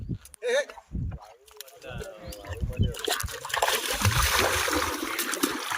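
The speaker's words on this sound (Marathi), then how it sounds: "हा माझ्यावर पाणी उडवलंस" A dog splashes and paddles in the water of a village dam, with irregular splashes and sloshing close by and people talking and exclaiming over it.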